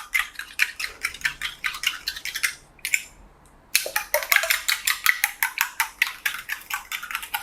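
Egg beaten with salt in a bowl, a fast regular clicking of fork or whisk against the bowl, close and crisp, pausing briefly midway before resuming at the same brisk rhythm.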